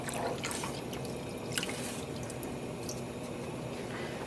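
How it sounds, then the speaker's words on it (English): Water from a container holding a little leftover midnight blue acid dye pours into a dye pot, a steady close splashing and trickling with scattered drips, alone without talk. "take this container that has a little bit left of our midnight blue dye, fill it with water,"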